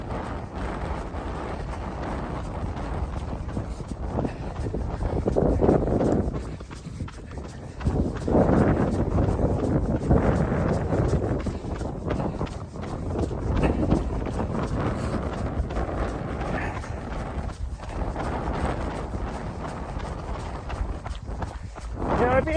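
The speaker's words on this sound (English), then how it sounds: "Now we're going straight into the wind" Strong wind buffets the microphone while a runner moves along outdoor trails on a Monday morning workout, a steady loud roar with gusts rising and falling, and footsteps and talk faintly underneath.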